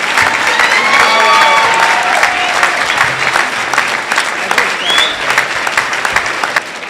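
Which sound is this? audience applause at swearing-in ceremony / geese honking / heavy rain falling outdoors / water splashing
audience applause at swearing-in ceremony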